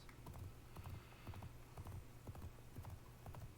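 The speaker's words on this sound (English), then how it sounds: "For the horse hooves, I used some coconut recordings from my library, along with some saddle foley and stampede sounds." Foley horse hooves built from coconut recordings with saddle sounds give a clear, rhythmic clip-clop, several hoofbeats trotting in quick repeating groups at moderate volume.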